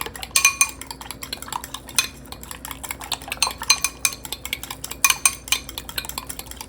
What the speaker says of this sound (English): So I have 3 eggs here, and we're going to whisk those together